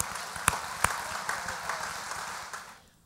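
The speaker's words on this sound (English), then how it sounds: "let's give him a round of applause" Applause from an audience at a church sermon, heard as a soft, fairly distant patter with a few sharper claps near the start, tapering off toward the end.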